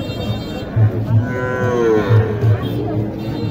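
Cattle low at a village livestock market in Naogaon where bull calves are sold, with several deep moos close by over a dense background murmur of market noise.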